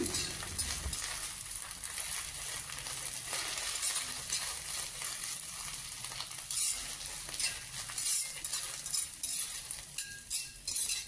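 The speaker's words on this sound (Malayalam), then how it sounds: "ഇനി നമുക്ക് മുരിങ്ങയിലും ചെറുതായിട്ടൊന്ന് വഴറ്റിയെടുക്കാം." Drumstick leaves sauté in a hot pan for a pickle, a steady sizzle running throughout with the scrape and clink of a spoon stirring against the metal, close and alone with no voices.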